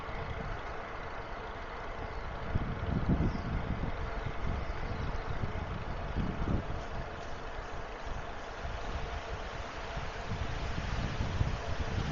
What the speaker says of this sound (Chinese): 你看，刮风了啊！ 你看，吹的树叶纷纷飘扬。